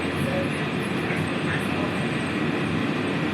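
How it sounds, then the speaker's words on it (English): Steady broadband rumble of a Disney monorail train in motion, heard from inside the car, continuous and fairly loud with faint higher squeals, no clear voices. "I'm going to hop back on the monorail"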